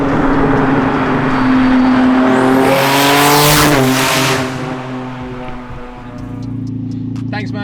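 An 1100bhp Nissan Navara fitted with an R35 GTR engine downshifts, its revs climbing and falling in a loud, close roar with sweeping tones before settling to a lower idle-like growl.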